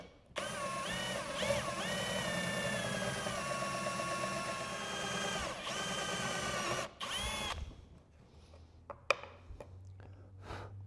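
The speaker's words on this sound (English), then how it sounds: "So I'm going to use this drill bit to drill those 2 holes in there." A power drill with a small bit boring two holes through brass for a homemade bevel tool, a loud steady whine that shifts pitch as the bit bites, then stops into quiet shop sounds with a few clicks.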